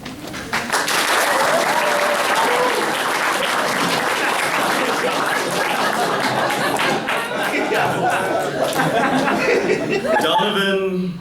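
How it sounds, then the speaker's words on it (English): An audience applauds as a speaker walks to the podium, with loud sustained clapping mixed with chuckles and crowd chatter that fades into voices near the end. "The audience applauds as Donovan moves to the podium."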